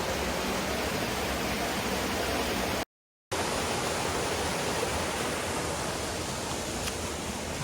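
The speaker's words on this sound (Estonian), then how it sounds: "Kivide vahelt voolab vesi alla, siin on mingisugune allika moodi." Spring water pouring down between rocks on a mountain lookout in Australia, a steady full rushing wash that fills the scene, with a brief silent break in the middle.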